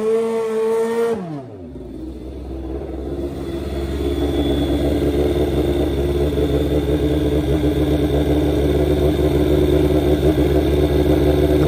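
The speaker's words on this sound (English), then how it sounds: "Fans go nuts for this old school Suzuki GS nitrous bike." An old-school Suzuki GS nitrous drag motorcycle, rated at 575 horsepower, at a drag strip. A falling engine tone is cut by a sudden drop, then a loud, harsh, sustained roar builds and holds close by.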